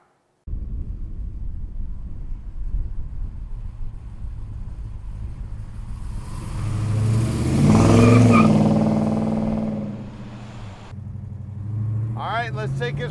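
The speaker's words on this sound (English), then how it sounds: "that stroker motor is running awesome" A 1970 Plymouth Road Runner's stroker engine rumbles at idle, then revs up in a long rising roar and drops back, with a voice briefly audible near the end.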